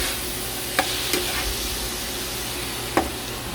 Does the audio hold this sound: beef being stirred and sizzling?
yes